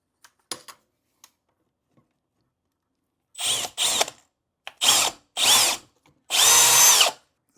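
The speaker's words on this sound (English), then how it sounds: "So we're going to take the 5/32, put them on our drill. And what we're going to do is we're going to drill the back one out." Power drill fitted with a 5/32 bit boring out a hole in a Traxxas X-Maxx 8S belted RC truck part, heard as several short loud whirring bursts after faint clicks, with no talk.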